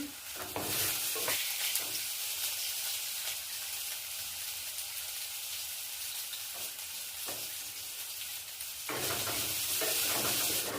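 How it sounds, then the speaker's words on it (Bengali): Potatoes frying in a salted pan make a loud, continuous sizzle that swells at the start and end, with brief scraping stirs in between. "আলুটা ভেজে নেব। একটু লবণ দিয়ে দিচ্ছি।"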